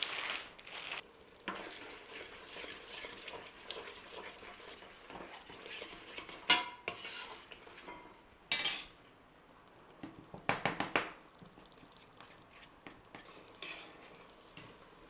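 A spoon scrapes and clinks against a bowl while corn flour is stirred into apple cider vinegar, with irregular taps, scrapes and a few sharper knocks, fairly quiet and close.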